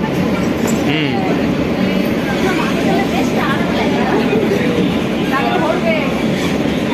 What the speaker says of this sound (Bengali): আমাদের মেট্রো এখনো চলছে